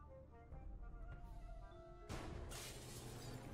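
Glass shatters in the video game Gibbous: A Cthulhu Adventure as a gunshot breaks the pane above a lab door, a sudden bright crash that bursts out of quiet background music and rings on.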